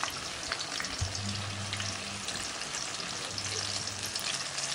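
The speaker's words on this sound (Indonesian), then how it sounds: "Kalau sudah, ini mau kita goreng. Biasakan kalau goreng terong itu, biar warnanya tetap cantik, minyaknya itu yang banyak." Eggplant pieces frying in a generous amount of very hot oil, giving a steady close sizzle throughout with a faint low hum underneath.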